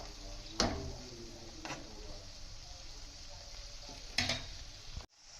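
Garlic sizzles in a frying pan of onions being cooked for a prawn dish, with a steady frying hiss broken by a few sharp clinks of stirring utensils against the pan, close and moderately loud.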